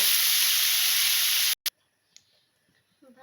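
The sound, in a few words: mushroom and potato frying with turmeric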